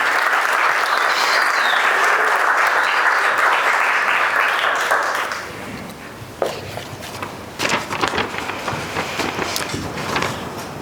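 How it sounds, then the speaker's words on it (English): Audience applause after a children's story about birds, a loud sustained wash of clapping for about five seconds that then thins into scattered claps, shuffling and movement. "Can we give our birds a round of applause?"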